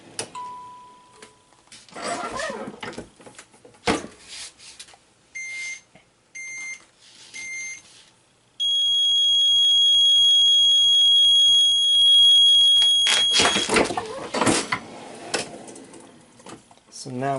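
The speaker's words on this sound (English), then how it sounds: "I'm going to let it beep a little bit longer than normal" A heat press beeps steadily while set to apply TexTack adhesive to leatherette: a few short electronic beeps, then a long sustained tone that runs for several seconds before handling noises take over.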